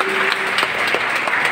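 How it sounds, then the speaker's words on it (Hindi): Audience giving loud, dense applause for Dr Ila at a retirement farewell gratitude ceremony, continuous clapping close and full throughout the short stretch. "एक बार जोरदार तालियां डॉक्टर ईला मैडम के लिए"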